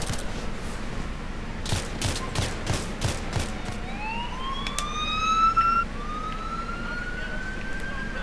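Several quick gunshots in a row on a city street in GTA IV, followed by a police siren rising and wailing at middle distance over a steady background hum of traffic.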